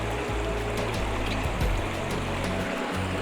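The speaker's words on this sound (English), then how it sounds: "just a little bit of water trickling over the top of it" Water trickles gently over the top of an exposed rock in a creek, a steady soft wash of flowing water heard up close with no voices.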